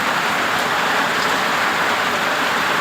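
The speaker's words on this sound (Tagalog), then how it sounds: "Lakas ng ulan, boy. Sobra." Dense, constant hiss of heavy rain pouring down without a break, loud and close, with nobody talking.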